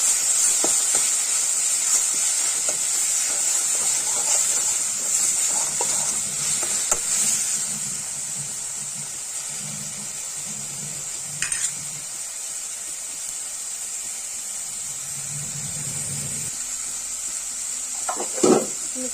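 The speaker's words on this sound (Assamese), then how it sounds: "অলপ সময় ভাজি লওঁ" Eggs fry in spices in a pan with a continuous close sizzle and hiss, punctuated by occasional stirring scrapes and a few clinks against the pan near the end.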